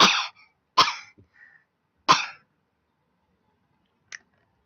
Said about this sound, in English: if I try and say 8 like that, I cough a lot